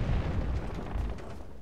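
A siege weapon fires during Cyrodiil player-versus-player combat in the video game Elder Scrolls Online, giving a short, deep, rumbling boom that carries on as a noisy low roar, with no voices.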